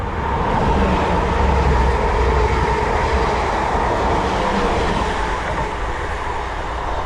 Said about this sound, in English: a train coming through